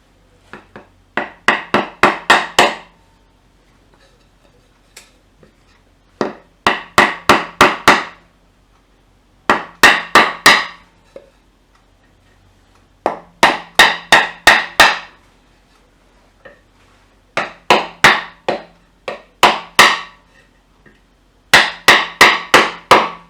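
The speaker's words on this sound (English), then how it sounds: "or tap it with a hammer." A hammer drives a Nissan Infiniti VK45DE 4.5 V8 engine's front crankshaft seal in through a wood block. Sharp, close taps come in clusters of about six to eight quickening strikes, with short pauses between groups and no speech.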